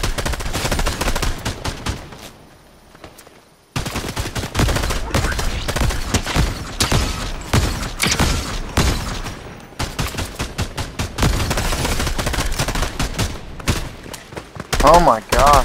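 Rapid bursts of gunfire from a Fortnite match, dense volleys of shots crackling almost continuously with a short lull, loud and close, with players' voices mixed in.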